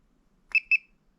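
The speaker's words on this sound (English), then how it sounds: "You can hear it beep, turn on." Two short high-pitched electronic beeps from a voltage tester in quick succession, close and clear against silence.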